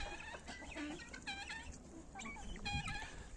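Several chickens cluck close by in short, bursty runs of calls, some overlapping, with a brief lower call near the end.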